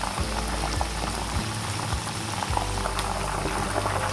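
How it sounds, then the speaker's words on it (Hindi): Chicken frying in oil over a medium flame for kung pao chicken, making a steady dense sizzle and bubbling crackle that continues evenly throughout. "1-2 मिनट हम इसको फ्राई करेंगे और फिर इसको निकाल लेंगे ऑयल से। फ्लेम हमने मीडियम रखी है।"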